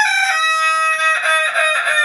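A rooster crows loudly and close at a cockfighting duel, one long harmonic call with a few wavering breaks, heard alone without talk.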